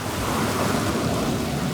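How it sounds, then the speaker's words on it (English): A waterfall in a river, heard from mid-river as a steady, loud, broadband roar of rushing water with no breaks, alone without talk. "Look at that beautiful waterfall."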